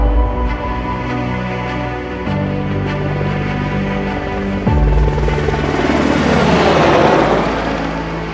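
Helicopter takeoff sound effect: a loud, steady rotor and engine drone with a rhythmic chop, surging louder and broader about halfway through as it lifts off.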